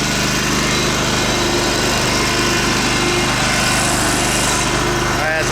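A Dixon 72-inch zero-turn mower engine running steadily at high RPM, a loud continuous drone with a dense broadband roar, heard close and alone without pauses.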